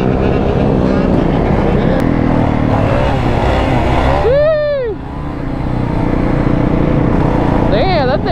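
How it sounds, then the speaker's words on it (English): A quad bike engine braking at a busy lot, its revs rising and falling with a sweeping whine partway through, fairly loud and close amid other engine noise and voices. "You don't even need a brake on that. So much engine brake."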